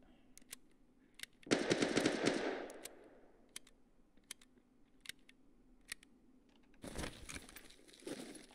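Gunfire in Escape from Tarkov: a dense burst of rapid shots around the second mark, followed by scattered single cracks and a second loud burst near the end, with no talk.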